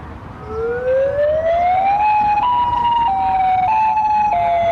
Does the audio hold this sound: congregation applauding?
no